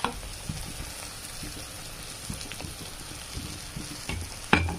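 Ground peanuts and garlic frying in a pan for an eggplant dish, a steady close sizzle with occasional scraping stirs and a louder clatter near the end.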